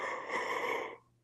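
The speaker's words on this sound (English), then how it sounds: "I'm sorry about the yawning" A tired man gives one long, breathy yawn up close, steady and airy for about a second before it fades to quiet.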